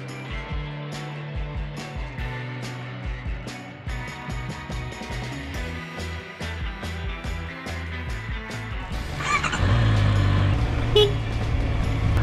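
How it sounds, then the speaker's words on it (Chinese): A vehicle horn is honked by mistake on a motorcycle spring ride along a mountain road among other traffic, short toots and engine noise heard amid road rumble and music. "我刚刚喇叭是按错"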